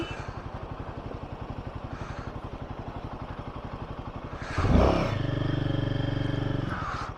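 A motorcycle on a snowy mountain road: a steady rapid engine thump, then a louder passing rev and roar around the midpoint that fades as it moves on.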